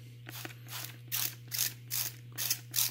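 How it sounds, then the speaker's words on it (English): A spray bottle of water hisses in about six quick, evenly spaced squirts over a low steady hum. "a spray bottle of water and just going to kind of spray water all over it."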